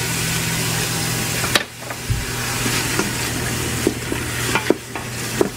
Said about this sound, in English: I'm going to add my onion, and I'm going to saute it for 2 to 3 minutes,